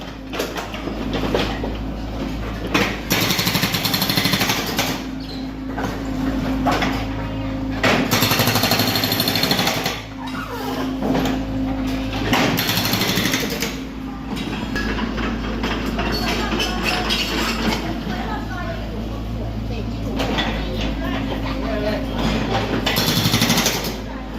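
A jackhammer pounds continuously, drilling to lay water supply pipes at a market, loud and close with rapid steady hammering and brief pauses, under a constant low engine drone and occasional voices.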